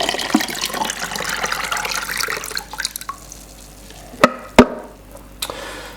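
Photographic fixer for film development pours and splashes into a container in a steady watery rush for several seconds, then quiets, with two sharp knocks near the end.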